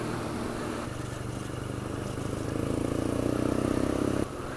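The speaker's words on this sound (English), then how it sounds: "I like this Boxer engine." A BMW R nine T with its air-cooled 1200 cc Boxer engine rumbles along on a ride, a steady throbbing exhaust note that rises in revs midway and then eases, close and continuous with wind noise.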